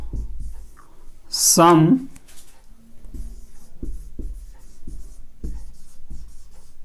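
Pen scratching out notes during a Class 12 physics lesson on electric dipoles, a string of short strokes following a brief spoken word, fairly close and modest in level.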